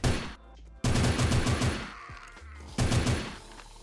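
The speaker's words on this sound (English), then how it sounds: "The AKW looks really nice and has a great firing sound effect." An AKW assault rifle in the game 7 Days To Die fires in loud, rapid automatic bursts, with two long strings of shots separated by a short pause and ringing tails.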